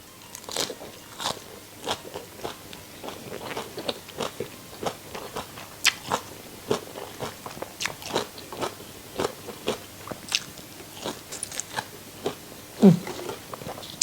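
Crispy pork rinds are bitten and chewed up close, producing a long run of sharp, crackling crunches at an irregular but steady pace with short quiet gaps between bites.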